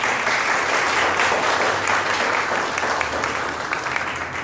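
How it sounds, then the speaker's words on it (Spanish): An audience at the Miss Huaral Provincial 2019 pageant breaks into loud, continuous applause, a thick wash of many clapping hands that holds steady for several seconds with only slight easing near the end. "Un aplauso, por favor."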